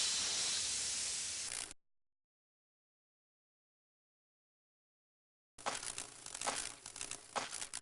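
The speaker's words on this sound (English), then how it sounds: "we're gonna use the insecticide spray because the bugs are actually just behind that wall" Insecticide spray in the Resident Evil Remake video game gives a strong hissing burst that cuts off into silence, followed by uneven crackling and clattering noises.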